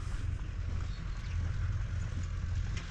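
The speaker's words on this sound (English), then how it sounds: "Tractor up in front, just tilling the fields." A tractor tills farm fields near Campanet, heard as a faint, distant, steady low engine rumble that drones continuously without clear breaks.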